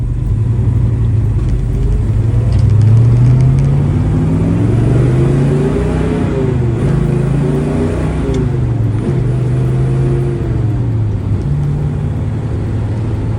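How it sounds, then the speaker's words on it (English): A 1966 Chevelle, just repaired for an engine vibration, revs hard and pulls away for a burnout. Its deep engine rumble rises and falls in pitch and stays loud and close for the whole stretch, with no talking. "Give you a little burnout here."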